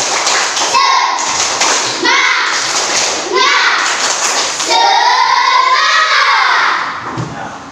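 Children in a classroom perform a rhythmic spirit clap, a series of loud, energetic claps mixed with kids' shouting voices and chanting, continuous and close throughout.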